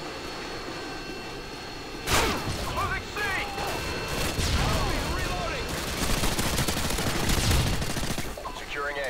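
Hip-fire gunfire in Call of Duty Modern Warfare on Xbox 360, loud bursts of rapid automatic shots with dense fusillades, mixed with in-game voices and radio chatter.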